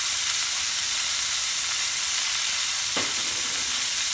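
Garlic sizzling in a pan alongside top sirloin steak, a loud, dense, continuous frying hiss with one sharp clatter or stir near the end and no talk.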